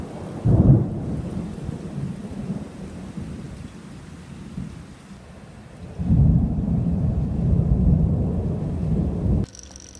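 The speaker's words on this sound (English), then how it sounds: "it's now pouring with rain" Heavy rain pours steadily in a dense roar, with deep rumbling swells of thunder rising and falling beneath it.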